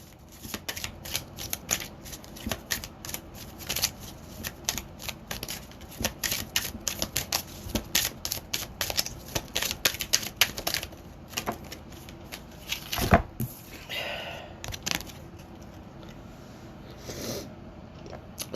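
Tarot cards being shuffled in a steady run of quick riffling flicks and soft slaps, close and fairly quiet, with a few brief snuffling sounds and no talking.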